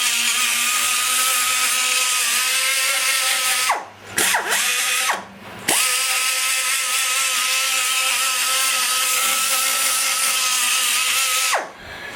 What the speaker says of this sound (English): with the grinder, I just slid the sand roll on, and all we're doing is blending to make sure there's no rough intrusions